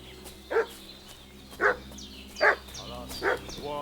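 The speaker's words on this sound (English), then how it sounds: "What's that dog making such a fuss about?" A dog barking in the medieval video game Kingdom Come Deliverance II, with four evenly spaced single barks at middle distance over a low ambient game background.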